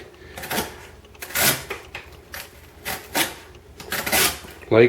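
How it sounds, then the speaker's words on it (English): Opinel No 12 knife slicing thin strips from cardboard, a series of short scraping, rasping cuts in irregular bursts, close and fairly loud, with no talk over them. "We're just going to take some slices off of that."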